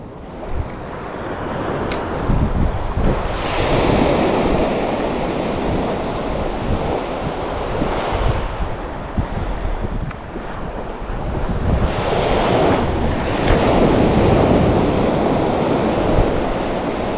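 Strong gusts of wind buffet the microphone on a seashore as waves wash in, a steady roar that swells and eases over the stretch, with no talking.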